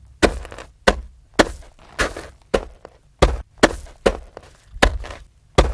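Log struck on gravel to mimic a dinosaur's scratchy clawed steps, about ten loud, close impacts at a steady walking pace, each a sharp crunch with a short gritty tail.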